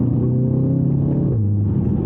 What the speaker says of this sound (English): And those blow-off sounds make me smile so much.